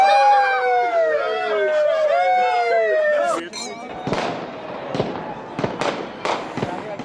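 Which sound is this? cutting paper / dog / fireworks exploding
fireworks exploding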